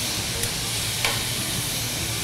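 Steady sizzling and crackling of beef ribs frying in a pan, with a faint stir or clink partway through; no talking.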